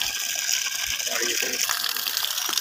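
A solar-powered motor pump gushes water out in a loud, steady, close rush with no pauses.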